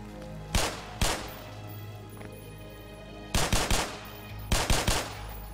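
Rapid-fire gunshots in the video game Black Mesa, with two single loud shots followed by two quick bursts of three or four rounds each over a steady low game hum.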